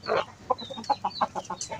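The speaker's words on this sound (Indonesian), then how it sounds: "Ini silangan ayam kampung seluruh." A crossbred native village chicken clucking nearby in a quick series of short, throaty notes, fairly loud and alone without any talking.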